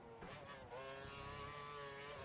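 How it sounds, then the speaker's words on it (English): A Formula One race car engine in F1 2012 at Austin, Texas, whining high and rising steadily as it accelerates, loud and continuous with no talk. "You can just hear me hesitating on the acceleration, just sort of slightly tapping it"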